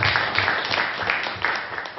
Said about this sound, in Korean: 우리 박수로 하나님 앞에 영광 드리겠습니다